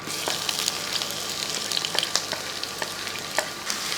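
Chopped onion and green chillies frying in a pan for an okra and egg dish, with a steady close sizzle and the scrape and clatter of a spoon stirring through the pieces.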